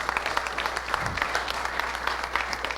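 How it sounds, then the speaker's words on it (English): Audience applause after a talk on practical AI, a steady patter of many hands clapping at moderate distance with no talk over it. "a round of applause for our tech crew, Brad up the back, for making"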